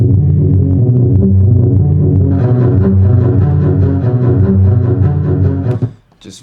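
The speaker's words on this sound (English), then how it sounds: "I know that layered off of this double bass string instrument here, which sounds like this." A double bass string layer in a suspenseful music track: deep, sustained bowed low notes in a steady repeating pattern, loud and full, with a brighter layer joining partway before it cuts off.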